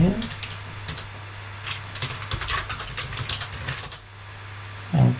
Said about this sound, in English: Type it in here.